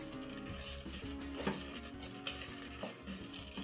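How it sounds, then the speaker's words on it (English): Garlic and ginger sauté in a pan with onions while being stirred, giving a steady close sizzle and frying hiss broken by a few scraping stirs, under a low hum and with no talking. "Then you're going to saute for around 30 seconds so that the garlic can cook and become fragrant."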